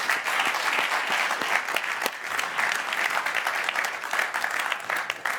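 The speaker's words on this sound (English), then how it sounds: "give them all a round of applause" An audience at a London event gives a round of applause, a thick, sustained patter of many hands with sharp individual claps poking through, steady and fairly loud from start to finish.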